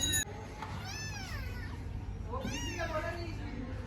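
Small kittens from a litter of three mew in two rising-and-falling cries, fairly close, over a low household hum with voices nearby.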